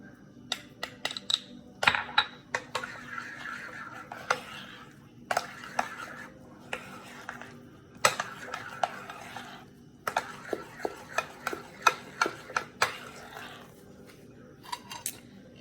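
Cheese tossed into a mixing bowl for a pizza rustica filling, then stirred with a utensil: a string of sharp clinks and scrapes against the bowl in irregular bursts, close and clear, with no talk.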